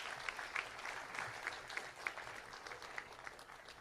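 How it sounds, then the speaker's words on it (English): Applause for newly inducted members at a North County JAG induction ceremony, a modest crowd clapping steadily and fairly faintly, individual claps audible through a soft even wash. "A round of applause, please, for all of our newly inducted members of North County JAG and Career Association."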